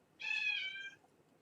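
A single clear cat meow, moderately close and lasting under a second, rises out of a quiet indoor room at a home studio.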